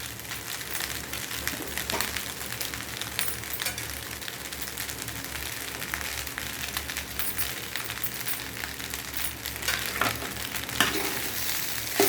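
Carrot rice is stirred in a hot pan with squeezed lemon juice, giving a steady close sizzle with soft scraping and clinking from the spoon throughout, and no talking.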